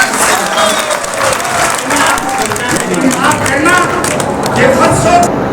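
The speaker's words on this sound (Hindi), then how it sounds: "एक बार पूरा सदन मुझे तालियां बजाकर एक माहौल बना कर" Audience applause at a Hindi kavi sammelan poetry gathering, a dense, continuous crowd clapping that fills the hall and stays loud throughout, with voices and some cheering mixed in.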